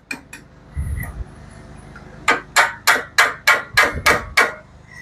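A 4-pound sledgehammer drives a sprocket shaft back into place on a Coleman KT196: two light taps and a low knock come first, then about eight loud, evenly spaced metal strikes ring close up.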